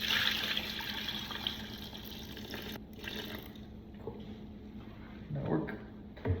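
Warm water, about 95 degrees, poured from a tap into a bowl with milk for hand-mixed sourdough sandwich loaf dough, a steady soft rushing stream that fades and trickles out near the end, fairly quiet.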